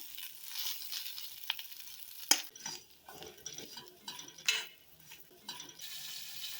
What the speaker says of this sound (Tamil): இது கூட ஒரு சின்னதாக தக்காளியும் சேர்த்து நல்லா இதோட வதக்கிக்கலாம்